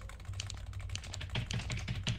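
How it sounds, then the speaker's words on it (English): Loud, clacky computer keyboard typed on during a Lethal Company gaming session, with quick bursts of sharp key taps, close to the mic and uneven in rhythm, with no talk. "It's loud ass keyboard."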